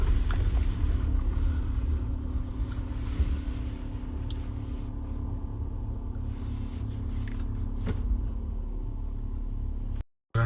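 A car engine rumbles steadily up close for about ten seconds while reversing on a mountain road, a low, constant drone that cuts off abruptly at the end.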